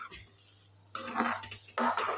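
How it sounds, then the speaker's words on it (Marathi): Hot rice flour vermicelli dough mixed in a pan, with two loud bursts of scraping and clattering against the metal following a quiet moment. "व्यवस्थित परत एकदा मिक्स करून घेते मी"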